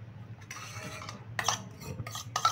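Mango kheer stirred continuously in a pan over a high flame, with soft scraping and rubbing strokes of a utensil against the pan coming in short bursts, fairly quiet and close.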